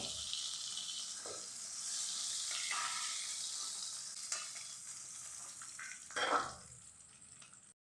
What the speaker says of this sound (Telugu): ఇప్పుడు ఇందులో ఎండు చేపలు కూడా వేయాలి